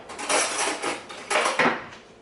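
Cutlery clatters as a spoon is picked up from a kitchen utensil holder, a few close metallic rattles and clinks in two short bursts, with no talking.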